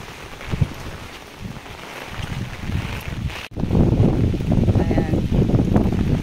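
Typhoon wind in Hong Kong buffets the microphone in gusty, roaring bursts, with turbulent rushing noise that grows heavier midway.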